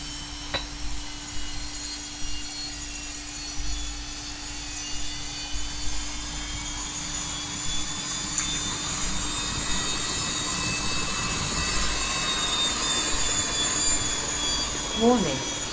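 Twin engines spool up on an AgustaWestland AW109SP helicopter, a steady whine with rising high tones and a constant low hum, heard from inside the cockpit while someone speaks.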